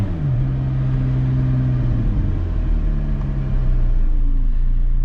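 A McLaren sports car driving through London, its engine a steady low rumble with tonal harmonics that shift as it accelerates, loud and close from inside the cabin, with no talking.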